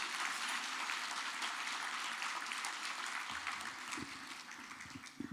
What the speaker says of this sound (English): Let's give them a big round of applause for all of the sponsors.